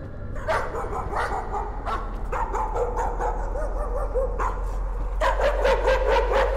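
Dog barking in the horror video game Layers of Fear, repeated sharp barks and yips echoing through the scene at a steady, fairly loud level with a low constant drone beneath.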